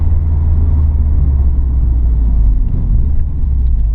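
A car with a Cobb AccessPORT tune and SF intake rumbles loudly from inside the cabin as a steady, deep engine drone with a faint whirring rise of the turbo spooling up.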